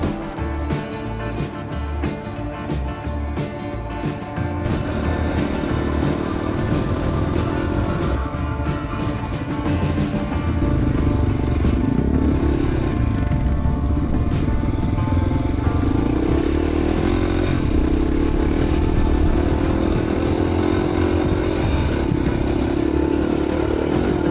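Honda XR600 motorcycle engines drone loudly and continuously during a desert rally in Tunisia, rising and settling in pitch as they rev, with a rough, throaty roar throughout.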